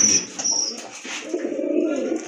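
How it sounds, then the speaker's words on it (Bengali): Pigeons coo softly in low, throaty rolling calls close by, with a brief higher chirp at the start. "আরেক জোড়া কবুতর দেখতে পাচ্ছেন"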